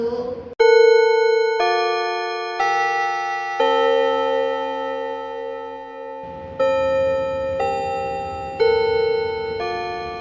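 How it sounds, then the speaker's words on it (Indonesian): A school bell plays a loud chime melody of sustained ringing tones, one note after another with a resonant, clock-like ring, close and clear with no voices. "berhubung bel sudah berbunyi"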